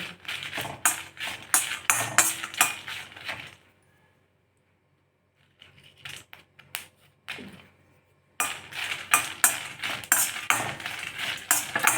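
Whole spices being dry-roasted in a pan for garam masala, a rapid clatter of spoon stirring and scraping the seeds against the metal, pausing for a few seconds before resuming, close and fairly loud.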